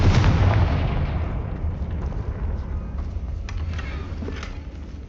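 In the Hogwarts Legacy video game, a Confringo blasting spell detonates in a loud, deep explosion whose rumbling roar fills the whole stretch and fades slowly toward the end.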